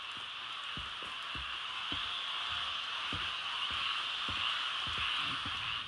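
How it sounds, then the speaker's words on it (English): A chorus of squirrel tree frogs calls after a rainstorm, with a steady dense trilling drone and scattered low croaks and clicks pulsing through it, sustained and fairly faint throughout. "after a rainstorm, you can hear one of the loudest residents in this area, the squirrel tree frog"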